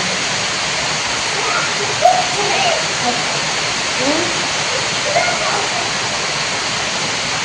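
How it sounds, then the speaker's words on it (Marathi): Steady broadband rain hiss fills the clip, with faint voices speaking quietly underneath in a leaking house. "पाऊस आहे बाबा"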